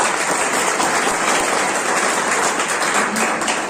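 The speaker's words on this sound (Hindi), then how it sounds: "आप सभी लोगों के लिए आप जोरदार तालियां।" Thunderous applause from a seminar audience gathered for a business plan presentation: dense, continuous clapping close by, holding a steady loudness throughout with barely any voices.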